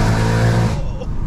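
Deep, loud engine roar from a 550bhp BMW M140i rear-wheel-drive sleeper, heard from inside the car while driving, holding steady and then easing off on damp roads, with someone talking over it.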